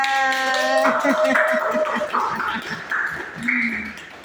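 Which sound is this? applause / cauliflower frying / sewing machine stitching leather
applause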